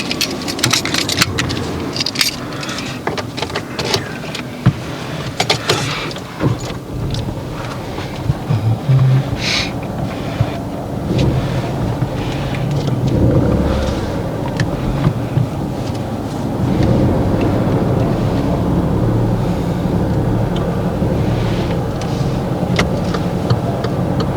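A learner driver's car pulls away at the start of a driving lesson, heard from inside the cabin. Continuous road and engine noise is broken by scattered clicks and buffeting wind.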